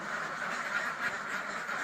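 A flock of farm ducks quacking continuously in a dense, overlapping chorus, fairly faint and distant with no talking.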